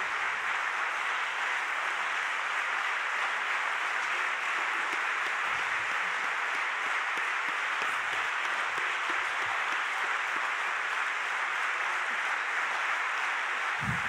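A congregation at a Christian teaching session in Paray applauds steadily, a dense unbroken wash of clapping heard from a distance that holds evenly throughout.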